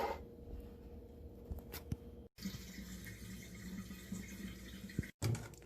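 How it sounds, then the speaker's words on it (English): A pork bone rinsed with white vinegar at a sink, with a steady running-water wash and splashing, broken by two brief silent gaps and no talking. "Just use white vinegar to rinse this pork bone."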